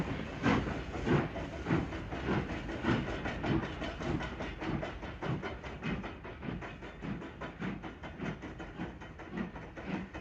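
A steam train rumbles past close by on a model railway layout with a steady rhythmic clatter of wheels over rail joints and a constant hiss, sustained for several seconds.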